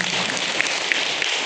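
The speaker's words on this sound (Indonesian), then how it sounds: "yang percaya berikan tepuk tangan yang jelas" Congregation clapping during a Sunday church service, a steady wash of applause lasting the whole short moment at moderate level with no voices over it.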